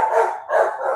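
Dogs barking and howling inside a home, two drawn-out yowling bursts close to the microphone with a short break between them, no talk over them.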